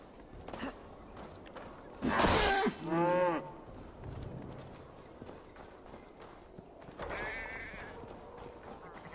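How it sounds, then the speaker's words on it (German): A cow moos in Assassin's Creed Valhalla, two loud drawn-out lowing calls close together, followed later by a quieter third moo, with faint hoof clip-clop and game ambience in between. "Oh, Moment, eine Kuh?"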